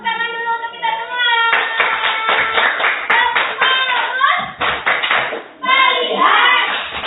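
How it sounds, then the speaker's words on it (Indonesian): A group of people clap their hands together in bursts, with loud voices chanting and calling out over and between the claps. "Oke, tepuk tangan dulu untuk kita semua"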